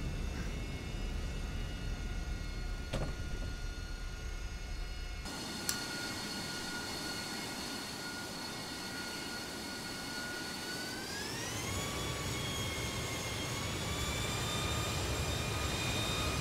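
An RAF Harrier jet in Microsoft Flight Simulator taxiing after landing on a short runway, with a steady loud engine whine and roar throughout. The engine pitch rises smoothly near the end as the throttle comes up.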